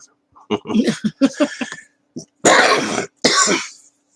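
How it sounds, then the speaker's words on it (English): A few speech-like bursts, then two harsh, forceful coughs close to the microphone, each a broad noisy blast. "the cough is always the last part of it"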